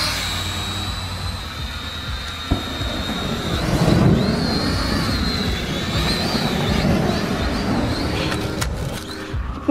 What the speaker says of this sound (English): Wish got this cool little drone